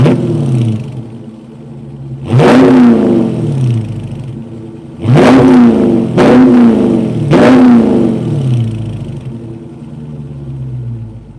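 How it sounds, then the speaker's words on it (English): A 2020 Dodge Charger Scat Pack Widebody engine revs three times in close succession, each blip swelling into a loud, deep roar before falling back to a rumbling idle, heard up close with no talk. "I'll rev it again."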